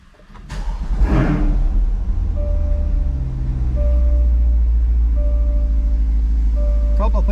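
A C8 Corvette's engine revs and accelerates loudly, a steady low roar that swells after the first second and holds strong to the end, with a brief whine rising early and faint tonal hum laid over it.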